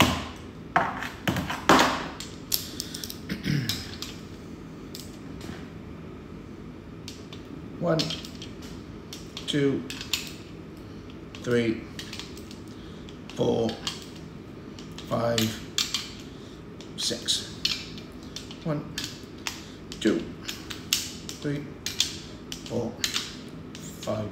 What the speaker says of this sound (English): all of these 5 UNFs I torque to 16 Newton meters